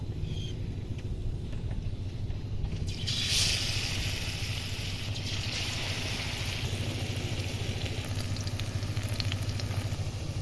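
Battered taro pieces frying in hot oil in a wok, a steady close sizzle that runs throughout and swells slightly as more pieces go in.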